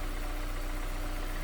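The 2-liter dual overhead cam VTEC engine of a 2001 Honda S2000 convertible idles in a steady, even drone. It is loud and close, with no speech over it.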